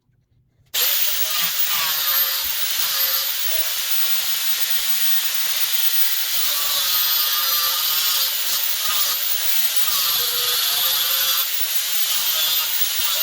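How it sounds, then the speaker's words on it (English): An angle grinder cuts through rusted bolts on the tailgate of a third-generation 1996-2002 Toyota 4Runner, starting abruptly and holding a loud, harsh, continuous hissing whine for about twelve seconds. "I was able to cut that off with the grinder pretty easily"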